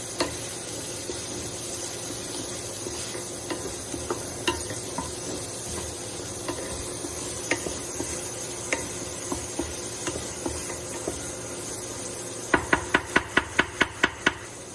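Onions caramelizing in a pan give a soft, continuous sizzle with occasional light scrapes of stirring, then a quick run of sharp tapping knocks near the end.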